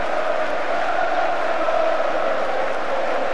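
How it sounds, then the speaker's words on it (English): Steady wash of crowd applause and noise filling a football stadium during the 1996 FA Charity Shield between Manchester United and Newcastle, continuous and dense throughout with no clear individual voices. "he joins in the applause"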